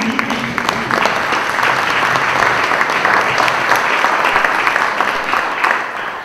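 Loud, steady audience applause after a sung performance, a dense wash of many hands clapping that holds for several seconds before tapering off.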